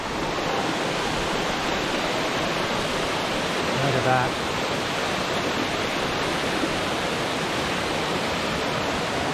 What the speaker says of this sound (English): We finally made it to the Bridal Waterfall.